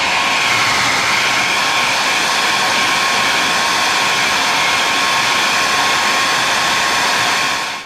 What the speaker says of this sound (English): I will turn the hairdryer on and just leave it pointed at a spot and then rotate the boot around it